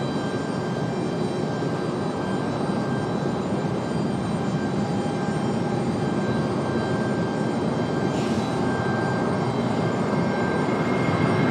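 A JetBlue jet airliner in JetBlue Vacations livery departs Raleigh-Durham International, a steady broadband engine roar holding loud and constant throughout with no voices.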